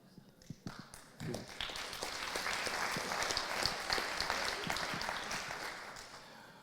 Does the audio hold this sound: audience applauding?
yes